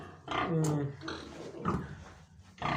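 Pigs grunt and snort in a farm pen, with several rough, close grunts overlapping through the clip and someone talking over them.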